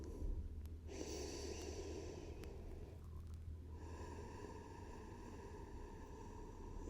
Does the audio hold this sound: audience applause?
no